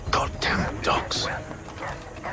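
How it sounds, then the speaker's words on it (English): Dogs barking and yelping in the colonial-era game Assassin's Creed 3 Remastered, several sharp close barks in quick succession mixed with voices talking over them. "Goddamn dogs."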